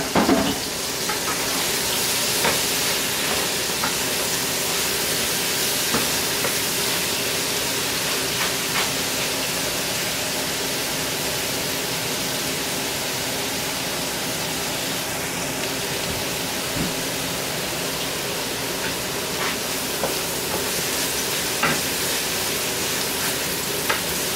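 Red, yellow and orange peppers frying with onions in a pan make a continuous, moderately loud sizzle with occasional faint ticks and stirs, heard alone without voices.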